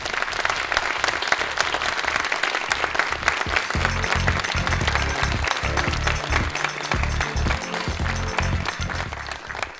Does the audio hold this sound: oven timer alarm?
no